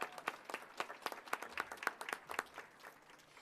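An audience at a graduation for an EMT apprenticeship program claps for an instructor, steady dense applause from a crowd, fairly faint and distant, tapering slightly toward the end.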